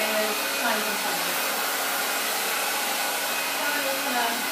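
A handheld hair blow dryer runs steadily through a curly, coarse, frizzy hair blowout, giving a loud, close, unbroken whooshing whir with no pauses.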